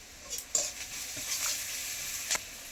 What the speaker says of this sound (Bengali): পেঁয়াজ তো ভাজা হচ্ছে, এই সময় আমি 1 চামচ নুন দেব।